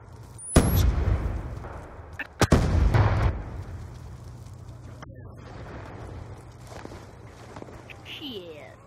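Frag grenade explosion in an online shooter game, two loud booming blasts about two seconds apart, with gunfire-like bursts and players talking throughout.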